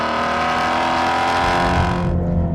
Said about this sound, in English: on the overrun, it has an unbelievable crackle through the air like the aftermath of fireworks